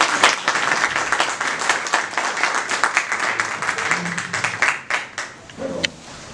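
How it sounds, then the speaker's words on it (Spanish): An audience at a doctoral incorporation ceremony applauds with dense, even clapping that gradually thins into scattered claps, with brief murmurs of voices toward the end. "Un aplauso, por favor."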